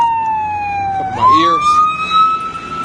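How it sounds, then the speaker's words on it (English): Ambulance siren passing by near a hospital, a loud wailing tone that shifts in pitch as the vehicle goes past close by, with a voice talking over it. "There's an ambulance coming behind me."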